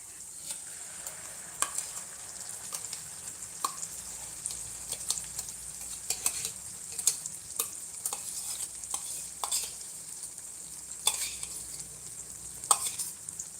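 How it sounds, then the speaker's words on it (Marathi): Cooked toor dal stirred into a hot tempering, with faint sizzling and scattered scrapes and taps of a spoon against the pan, fairly soft and close with no talk. "आता मी वरण जे आहे तुरीच्या डाळीचं कुकरमध्ये शिजवलेलं तर ते टाकत आहे"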